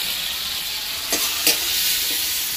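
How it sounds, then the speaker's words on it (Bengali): Large shrimp fry in hot oil in a pan with a loud, continuous sizzle, broken by a couple of sharp stirring scrapes. "এগুলোকে একটু ভালো করে ভেজে নেবো। দেখো চিংড়িগুলো পুরো ভাজা হয়ে গেছে"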